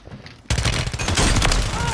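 Video game gunfire: a sudden burst of rapid automatic shots that continues loud and dense for over a second, with players talking over it.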